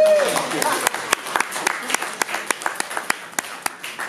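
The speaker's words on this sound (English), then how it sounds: "have her come on up with a round of applause" An audience at a skeptics' event applauds with scattered, uneven clapping that builds into a moderate round, while a voice talks over the start.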